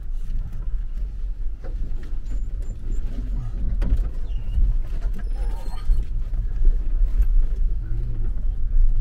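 Land Rover Defender L663 crawling over rocks on a mountain trail at Strata Florida in Wales, with a steady low engine rumble, creaks and knocks from the suspension and body as it clambers along, no talk.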